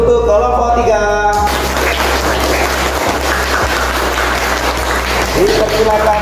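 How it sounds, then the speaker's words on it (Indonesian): Classroom applause for a student group rings out in a school room, a dense sustained clatter of many hands clapping close by, with voices mixed in at the start and end. "Beri aplaus untuk kelompok 3"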